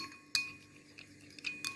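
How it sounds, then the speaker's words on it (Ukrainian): Spoon clinking against a bowl as melted gelatin is stirred, a few sharp metallic taps spaced out over a quiet background. "10 секунд пройшло, перемішуємо желатин."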